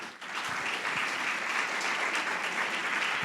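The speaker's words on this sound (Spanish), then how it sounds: "¿Por qué no le da un aplauso al Señor?" A church congregation applauds during a Spanish-language sermon, a dense, steady wash of many hands clapping at close range that holds for the whole stretch with no talk over it.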